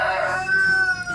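A rooster crows once with a bright, strained call that holds steady, fairly close and loud, with no talking.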